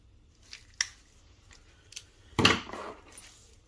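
A knife's packaging is being cut open with scattered soft snips, crinkles and rustles, a sharper cluster of plastic tearing near the middle, quiet and close with no talk.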